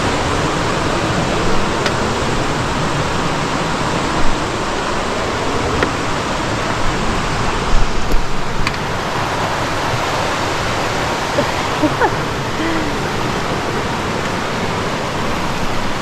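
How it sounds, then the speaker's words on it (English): A rushing river beside the Appalachian Trail gives a loud, steady broadband roar of flowing water close by, continuous throughout with a few faint knocks. "Literally right next to the river."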